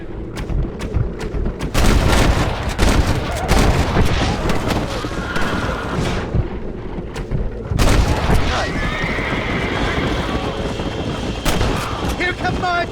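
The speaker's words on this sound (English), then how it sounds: "I'm driving the bloody wagon" Horse-drawn wagon in the Western game Red Dead Redemption, with horses neighing loudly, hooves and wheels rumbling, and sharp gunshots cracking throughout a busy chase, while voices talk over the din.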